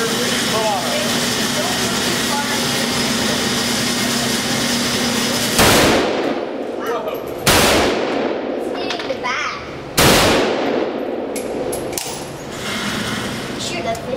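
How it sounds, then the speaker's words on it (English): AK-47 rifle at a firearms range, three loud single gunshots spaced a couple of seconds apart, each cracking sharply and echoing over a steady background of outdoor noise and other range activity. "Oh, he's shooting an AK-47."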